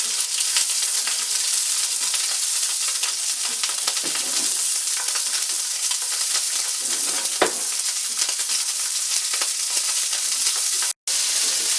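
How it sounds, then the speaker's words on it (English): Olive oil heats in a cast iron pan with a loud, steady, close crackling sizzle that runs unbroken, with a brief cut near the end and no voices. "Pan's heating up, a little bit of olive oil."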